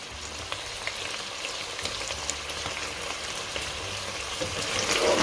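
Butter, about one and a half tablespoons, goes into sizzling mutton pieces in a hot pan over a high flame for Peshawari namkeen gosht. A soft, steady crackle is dotted with small pops and swells slightly near the end, with no talking.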